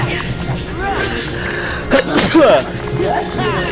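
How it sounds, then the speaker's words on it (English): A single sudden sneeze bursts out midway, surrounded by low background noise and faint voice-like murmur. "Sorry for sneezing on stream."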